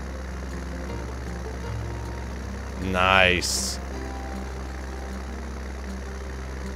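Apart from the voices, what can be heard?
143 horsepower tractor engine running in video game Farming Simulator 19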